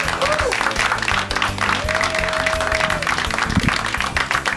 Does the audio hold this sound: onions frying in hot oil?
no